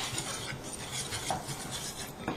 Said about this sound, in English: I've got a tablespoon of melted butter and a tablespoon of fresh lemon juice. And I'll just combine that with a whisk.